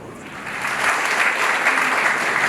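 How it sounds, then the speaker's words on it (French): Conference audience applauding the moderator and panelists at an architecture event, a steady wash of many hands clapping that swells slightly and holds for a couple of seconds. "on peut les accompagner par des applaudissements, le modérateur, l'ensemble des panélistes"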